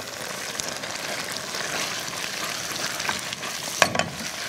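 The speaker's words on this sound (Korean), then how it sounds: "달달 볶아주는 거예요." Drained noodles stir-fry in a hot pan with sauce, giving a steady close sizzle and frying hiss with a few louder scraping stirs near the end.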